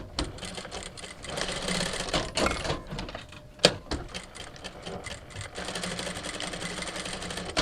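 A sewing machine stitches bias binding onto a garment in a close, continuous rattling run, with a brief pause and a sharp knock midway before the stitching resumes steadily.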